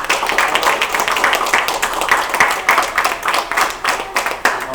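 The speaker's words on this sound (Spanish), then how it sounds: "Un aplauso a Gabo por la siembra" An audience at a church service claps together in a brisk, continuous round of applause, close and fairly loud, with no clear talk.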